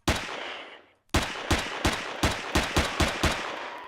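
Rapid gunfire from a weapon in the sci-fi survival game Empyrion, set in an abandoned mine: a loud opening burst, a brief pause, then a steady run of about eight sharp, evenly spaced shots, close and alone.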